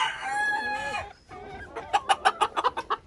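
Silver Sebright and Sultan chickens at a poultry farm cluck in a quick, close, rhythmic series of sharp calls following a drawn-out call.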